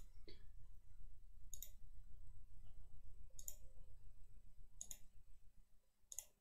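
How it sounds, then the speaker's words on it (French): A computer mouse clicks sharply at a slow, steady pace while walls are laid out in 3D plan software for a house renovation, over a low background hum. "Donc on clique à chaque fois pour pouvoir faire le mur."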